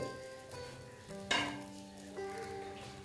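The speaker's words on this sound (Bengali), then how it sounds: "দেখো, ভেজে নিচ্ছি ঘির মধ্যে।" Bread slices frying in ghee in a pan for bread custard make a low, steady sizzle, with a brief louder burst, under a background of sustained musical tones.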